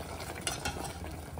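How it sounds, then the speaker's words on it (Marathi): Masala being stir-fried in oil for shahi paneer, a steady close sizzle with soft scraping strokes of a spatula in the pan, no voices. "तर छान एकत्र परतून घेऊया"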